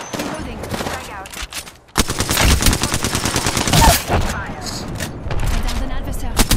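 Rapid bursts of automatic gunfire in the Apex Legends battle royale game, a dense and loud rattle of rounds with a sharper, heavier stretch after a brief pause, mixed with game sounds and effects.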